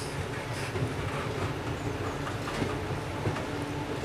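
A train rolls steadily past at Geldermalsen station in the Netherlands, a continuous low rumble of wheels and carriages at close range with no voices over it.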